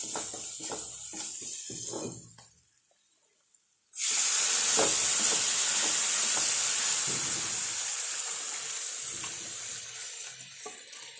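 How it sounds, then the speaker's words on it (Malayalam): Chili powder, turmeric and curry leaves hitting hot oil in a pot for a lentil curry, a sudden loud hissing sizzle after a quiet pause that stays strong and slowly eases, close up. "മുളക് പൊടിയും മഞ്ഞൾപ്പൊടിയും കരിവേപ്പില ഇട്ടു കേട്ടോ."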